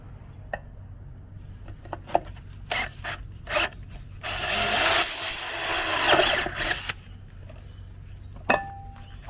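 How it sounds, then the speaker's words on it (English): Scattered clicks and taps lead into a few seconds of loud, whirring power drilling through a boat hull, a Quintrex 510 Sea Spirit, then more light knocks and handling sounds. "so now we just drill this hole through"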